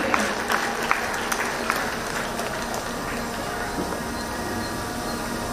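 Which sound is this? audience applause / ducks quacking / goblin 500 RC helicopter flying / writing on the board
audience applause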